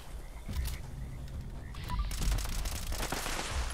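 Gunfire in Fallout 76 as the player shoots back at a turret, a dense rattle of rapid shots that thickens in the second half, close and moderately loud against game ambience.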